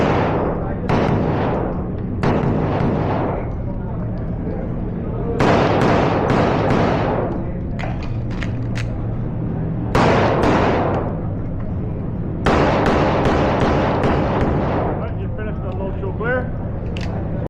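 Gunshots ring out during an IDPA pistol shooting stage, with shots fired at swinging targets at an outdoor sportsmen's club: sharp, loud cracks in quick pairs and short strings separated by brief pauses.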